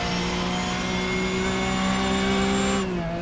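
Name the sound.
racing car engine in iRacing video game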